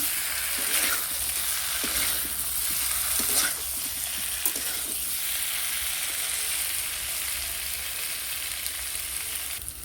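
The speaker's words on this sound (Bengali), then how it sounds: "পটলটা দিয়ে ভালো করে নেড়ে নিচ্ছি।" Pointed gourd (potol) is stir-fried in a pan with spiced potatoes. A steady, dense sizzle runs throughout, broken by soft rhythmic scrapes of a spatula stirring the vegetables.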